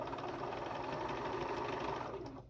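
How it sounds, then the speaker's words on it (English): A sewing machine runs steadily at close range while top stitching along the edge of a Grinch Christmas pouch, its fast rhythmic whir continuing evenly before slowing and stopping. "we're going to top stitch along this edge again"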